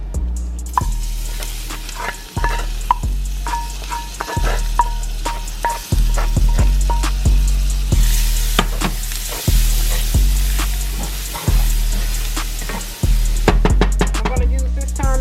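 Onion, celery and peppers frying in a browned roux for crawfish étouffée, a loud steady sizzle broken by regular stirring strokes and scrapes of the spoon against the pot, with no one talking.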